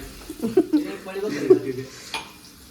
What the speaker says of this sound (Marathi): इथं पल्ली कांदा ब्राऊन होऊ दे